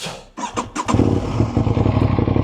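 An Aprilia RS 660 sport motorcycle starts up close by, with a few sharp cranking bursts followed by the engine catching and settling into a loud, throbbing idle.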